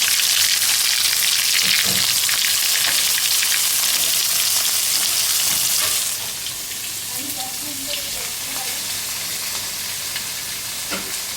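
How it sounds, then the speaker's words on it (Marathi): Cumin and mustard seeds crackle and spatter in hot oil with a steady sizzle, loud at first and then softer, with a few faint voices in the background. "आपण आधी जिरं मोहरी तडतडून घेऊ"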